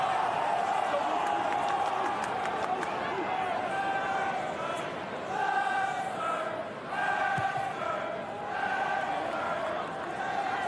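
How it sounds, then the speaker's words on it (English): Home rugby crowd at a Leinster versus Benetton match roaring steadily for Leinster late in the game, a dense continuous swell of cheering and chanting that rises in waves, with no one speaking over it. "Crowd doing their best to get behind the home side"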